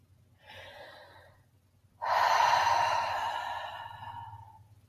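A single breath in and then a breath out: a soft, faint inhale first, followed after a pause by a louder, long, airy exhale close to the mic.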